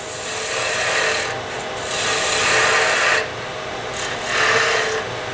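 Wooden blank spinning on a lathe under a cutting tool, a loud rasping, scraping hiss that swells and fades in repeated, nearly identical passes, with no voice.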